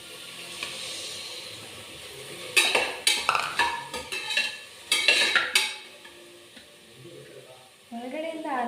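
Onions and tomatoes cooking in hot oil in a pan give a soft low hiss, then a run of sharp clattering stirs and scrapes of a utensil against the pan. A voice comes in near the end.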